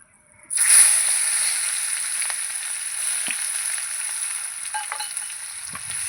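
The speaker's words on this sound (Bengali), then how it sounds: "পেঁয়াজটাকে আমি একটু ভেজে নেবো" Chopped onion drops into hot oil tempered with black cumin for a spicy tilapia curry with mustard paste, bursting into a loud, steady sizzle that settles into a continuous hiss with small pops and spatula scrapes, no voices.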